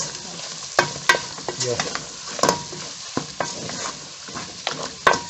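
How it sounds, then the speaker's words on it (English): Beef simmering and frying in a pan for dry fry beef makes a steady sizzle, broken by repeated sharp spatula scrapes and clacks against the pan; a voice speaks briefly over it. "So we leave the meat to simmer for like 2 to 3 minutes."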